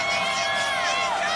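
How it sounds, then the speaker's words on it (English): A large crowd at a night college football national championship game, Alabama against Clemson in a stadium, roars with a broad, loud, sustained cheer with whistles and shouts mixed in. "But a great crowd tonight."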